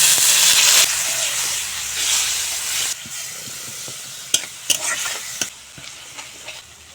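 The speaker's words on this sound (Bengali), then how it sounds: "এখন সামান্য জল দিয়ে মশলা ভালো করে কষিয়ে নেব" Ground spices such as turmeric, chilli and cumin powder are stirred and fried in a pan with a little water, giving a loud steady sizzle that eases after a few seconds, then scraping stirs and sharp spoon clacks against the pan.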